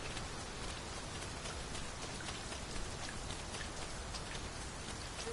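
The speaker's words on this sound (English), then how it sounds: "Let us take care not to slip. Rain can be treacherous." Steady rain falls in the game Dragon's Dogma 2, a soft, even patter of drops on surfaces without pause.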